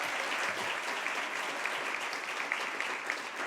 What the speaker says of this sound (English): a quick round of applause for everybody who was part of that